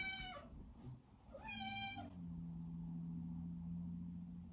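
A pet cat meows twice indoors, two short rising-falling calls close by, followed by a steady low hum of background noise with no talking.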